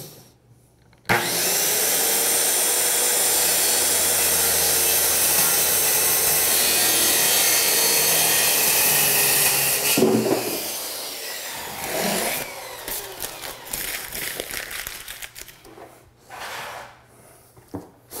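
A power saw rips steadily through a wooden door set on a table to trim its height, a loud continuous cut of about nine seconds, followed by scraping, knocking and handling noises as the offcut is moved.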